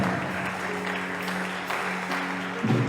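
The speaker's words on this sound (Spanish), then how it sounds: "Dale un fuerte aplauso a Jesús." Congregation at a Spanish-language church service clapping steadily, a dense continuous wash of applause with a low sustained musical tone underneath, no talk over it.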